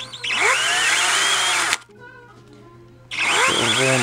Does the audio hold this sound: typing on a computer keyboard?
no